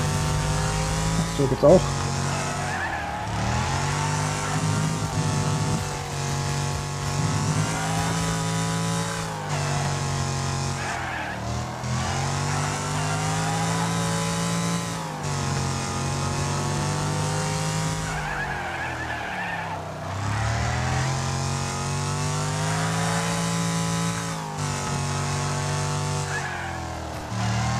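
In a racing video game, a car engine revs and accelerates in repeated rising sweeps, with tires squealing and someone commenting throughout.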